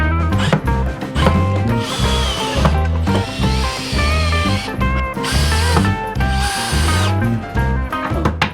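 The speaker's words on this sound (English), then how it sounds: "We just put the screws in to stop it sliding." A power drill drives screws into wood in repeated loud, close bursts of whirring motor, each rising and stopping in a steady rhythm, with no voices over it.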